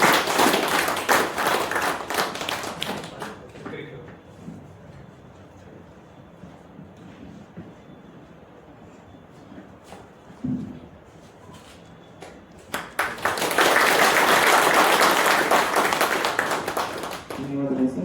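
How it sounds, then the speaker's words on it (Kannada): Audience applause at a flood rescue training closing ceremony during a bouquet presentation: a loud burst of clapping at the start, a quieter stretch with faint voices, then a second sustained round of clapping at the end. "ದಯವಿಟ್ಟು ಎಲ್ಲ ಸ್ನೇಹಿತರೆಲ್ಲ ಚಪ್ಪಾಳೆ ತಟ್ಟುವ ಮೂಲಕ"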